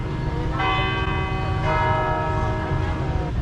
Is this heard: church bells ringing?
yes